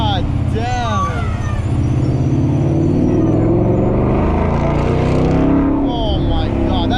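Mustang GT 5.0 V8 fitted with an MBRP race exhaust, driven through a tunnel: a loud, continuous engine roar rising and swelling up close, with a voice speaking over it.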